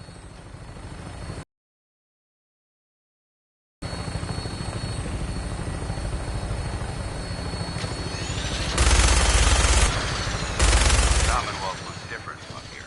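A helicopter flies in the video game Fallout 4, with a steady loud rotor and engine drone, a brief dropout, then two louder bursts of gunfire near the end while a voice speaks.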